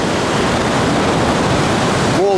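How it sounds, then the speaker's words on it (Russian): Sea waves on Damlataş beach in Alanya, Turkey, in winter, a loud steady roar of surf that fills the whole clip up close, broken near the end by a brief whistle-like tone. "Волны просто роскошные."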